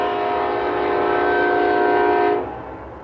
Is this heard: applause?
no